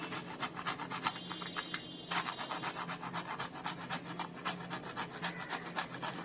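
Nutmeg grated by hand for a traditional Marathi dish of ghavan and ghatla: steady, rapid rasping strokes scrape on and on at close range, fairly quiet, with no voices over them.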